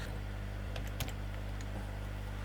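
A handful of sparse key clicks on a computer keyboard, typed into a single-line text field, sound over a constant low electrical hum, with no voices.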